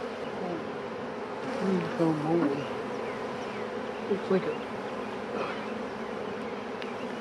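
A dense, steady hum of honeybees buzzing around an open hive, close and continuous, with individual bees droning louder as they pass near; someone speaks briefly over the swarm.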